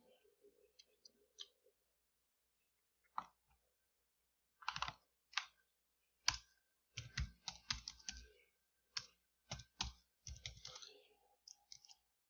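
Keys on a computer keyboard clack in scattered short bursts and single taps, close and quiet, with long pauses between flurries in an otherwise silent room.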